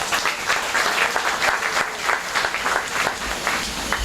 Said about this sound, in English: why don't you give our brave skipper a big round of applause